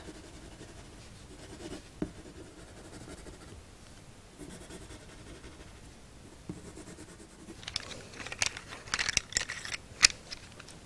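A coloured pencil burnishes a drawing of a wooden bowl on paper, a faint close scratchy rubbing that grows busier and firmer toward the end.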